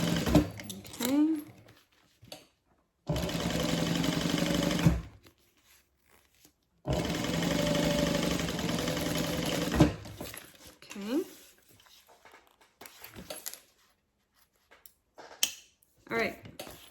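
A domestic sewing machine top-stitches a double zip bag in two sustained runs of steady whirring, close and loud, separated by quieter handling noises and brief talk.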